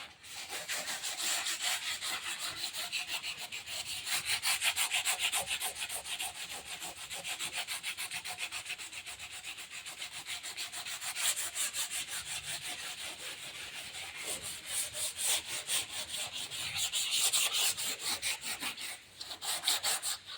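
Gel-coated fiberglass being sanded by hand, a continuous scratchy rubbing with a fast back-and-forth rhythm, close and steady for the whole stretch.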